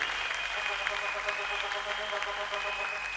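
A church congregation claps together at a worship service, dense and steady applause filling the room throughout, with a sustained tonal sound, likely music, running underneath.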